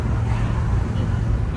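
A 1967 Cadillac Deville gives a steady, loud low rumble from the cabin while accelerating on the road, a continuous engine and road drone with no distinct breaks.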